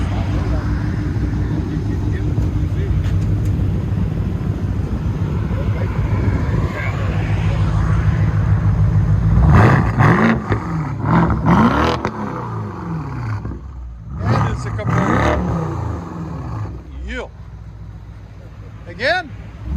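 A straight-piped BMW 650i with a 4.4L V8 rumbles loudly at idle, then barks through several sharp revs with crackling pops, close by, with people talking over it.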